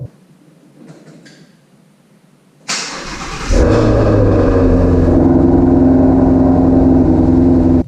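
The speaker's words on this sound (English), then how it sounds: "This thing has one of the most amazing sounding cold starts you'll ever hear" Quiet ambience gives way to a starter whirring, then a Ford Shelby GT350 V8 fires on a cold start and roars into a loud, deep, sustained high idle, close by.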